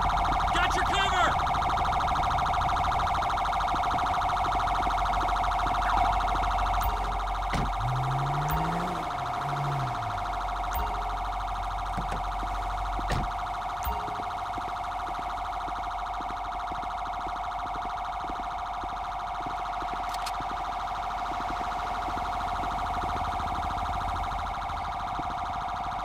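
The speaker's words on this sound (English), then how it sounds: "Is that only one ambulance that showed up?" A wailing ambulance siren in the video game Grand Theft Auto V, loud and continuous for nearly half a minute, with a steady electronic tone and brief low sweeping sounds early on.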